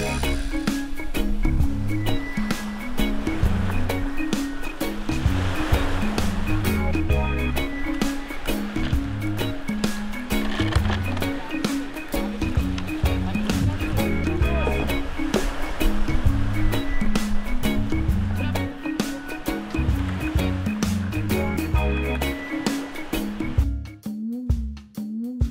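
Waves wash steadily onto Bidadari Beach on Lake Ranau, a continuous loud surf with rolling swells and spray that stays dense throughout, ending in a brief quieter moment.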